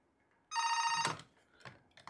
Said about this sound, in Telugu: ఫోన్ కూడా వచ్చేసింది.